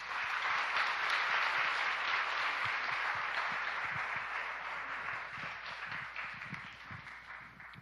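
A church congregation claps together during a Korean worship service, a dense sustained wash of applause that fades slowly toward the end, with no voices over it.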